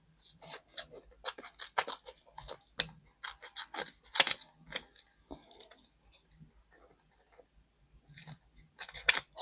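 Scissors cutting planner paper into pieces, a close series of crisp snips and paper rustles in uneven bursts with short pauses, no voices.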